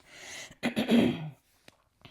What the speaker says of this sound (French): Parce que tout à l'heure, j'arrête pas de tousser.